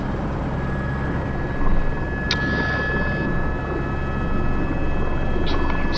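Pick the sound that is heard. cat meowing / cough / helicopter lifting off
helicopter lifting off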